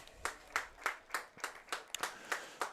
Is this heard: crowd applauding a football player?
yes